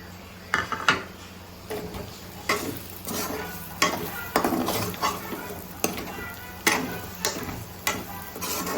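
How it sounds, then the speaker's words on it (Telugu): Onion and green chilies fry in a pan for a Sunday chicken and mutton curry at home, giving a steady sizzle broken by repeated clinks and scrapes of a spoon stirring against the pan. "ఒక రెండు నిమిషాలు ఫ్రై అవనిద్దామండి ఉల్లిపాయ పచ్చిమిర్చి వేసాం కదా"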